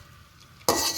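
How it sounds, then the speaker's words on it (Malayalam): Grated coconut for chammanthi podi is stirred in a hot pan during dry-roasting, with a sudden loud scraping, rustling burst after a quiet moment. "നിർത്താതെ ഇളക്കണം, കാരണം അടിയിലൊന്നും പിടിക്കരുത്"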